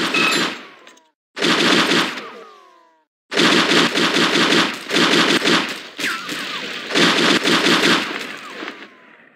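Bursts of automatic gunfire from the video game True Crime: Streets of L.A., several loud rapid volleys with short gaps between them and no talking.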